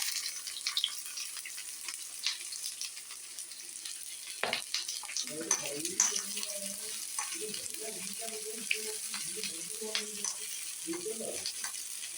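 Finely chopped small onions sizzle and fry in a pan, with a steady soft hiss broken by occasional stirring scrapes, heard close and fairly quiet while a voice speaks faintly in the background.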